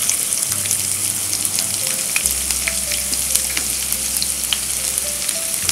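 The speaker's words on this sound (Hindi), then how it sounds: "प्याज को अच्छा ब्राउन होने तक सेक लेते हैं।" Chopped onions with cinnamon, bay leaf and cardamom frying in oil for chana chole, giving a steady, loud, close sizzle with scattered crackles throughout and faint low tones underneath, no voices.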